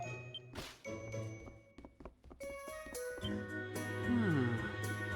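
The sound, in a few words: bells ringing in video game Ys IX: Monstrum Nox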